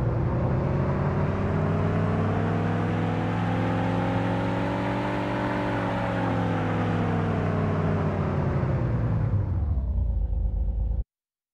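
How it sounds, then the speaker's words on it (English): Synthesized car engine built from crossfaded, pitch-shifted exhaust samples in an Unreal Engine MetaSounds demo, a loud continuous rev that climbs, holds, then drops away with a quick deceleration before cutting off. "we're pitching and crossfading between several exhaust engine samples to get smooth acceleration and deceleration"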